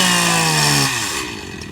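A chainsaw cuts through wood at a Paul Bunyan lumberjack show. The engine holds a loud, steady whine, then its pitch sags and roughens as the bar bites under load. No one speaks.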